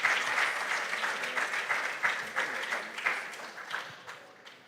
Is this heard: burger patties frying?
no